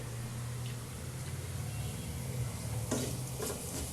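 Browned onions frying in a pan while being stirred, a soft, steady sizzle with occasional scraping clinks of the spoon, quiet and close.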